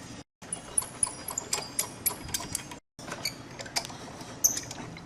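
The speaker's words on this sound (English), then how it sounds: "we got the screws out and the valve cover just comes off real easy" Screws come out of the valve cover on a Briggs & Stratton 550 series push mower, with small close ratcheting creaks and clicks from a hand tool in irregular bursts, broken by brief silent gaps and no talk.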